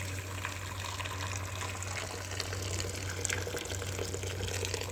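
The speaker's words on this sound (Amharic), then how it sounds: "ይሄ አሁን የምሰራው ሩዝ በደንብ ውሃ ብዛት ስለሚያስፈልገው አሁን እጨምርበታለሁ" Water pours steadily into a pot of rice during cooking, a continuous even gush with a low hum underneath and no talking.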